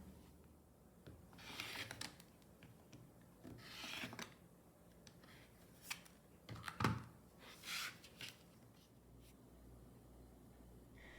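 Rotary cutter slicing quilting cotton for an hourglass block, a series of short rasping strokes against a mat, some louder than others, close and with no talking.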